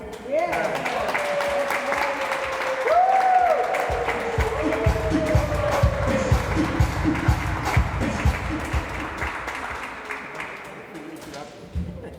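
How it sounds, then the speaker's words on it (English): A crowd at a Cameroonian flag raising ceremony claps steadily for an honoree, the applause mixed with voices, cheering and background bustle throughout. "So, please clap for him."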